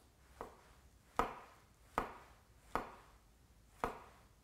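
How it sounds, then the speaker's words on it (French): Mushrooms are sliced on a board with a thick, sharp knife, five crisp, evenly spaced chops knocking close and clear over a quiet background. "nous prenons un couteau un petit peu épais, bien affûté, et nous venons"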